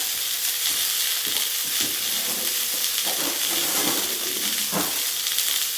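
Wild tuna sears in a Saladmaster skillet, a steady, loud sizzle and frying hiss that runs unbroken the whole time with no talking.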